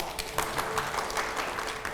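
Applause and clapping from a studio audience on a Hindi talk show, a dense, steady patter of many hands at moderate level for a couple of seconds, with no voices over it.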